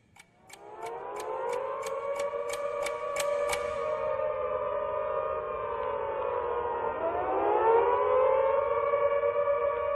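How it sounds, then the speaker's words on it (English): Civil defense air raid sirens wailing over Coventry during the 1940 Blitz, loud sustained rising and falling tones that swell and shift pitch, preceded by a quick series of sharp clicks, with no voices. "The sirens pervaded the whole atmosphere all over the city."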